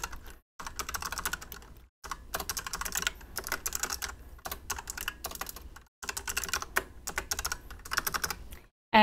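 Rapid bursts of computer keyboard typing while account details such as name, email and password are entered, crisp clicking keystrokes in runs separated by short pauses, close and alone.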